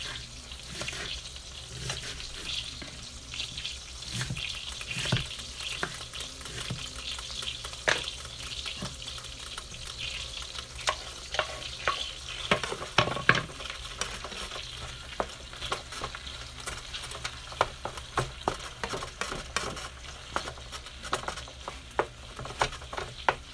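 Frozen meat frying with onions in a pan, a steady sizzle with clattering stirs and scraping throughout, close and moderately loud, with no talking.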